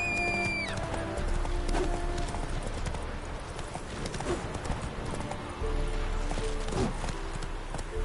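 Roach, the horse in The Witcher 3, gallops along in a steady rapid clip-clop of hooves with a whinny near the start, the hoofbeats close and moderately loud over faint game ambience.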